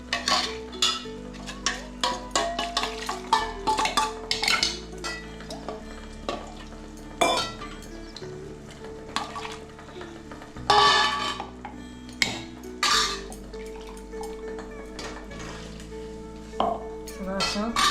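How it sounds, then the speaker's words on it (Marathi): Washing spice-grinding utensils in a home kitchen during Malvani prawn curry preparation: irregular metallic clinks, clanks and scraping of pots and dishes, close and fairly loud, with water sloshing between knocks. "सगळं असं धुवून घ्यायची भांडी वाटपाची"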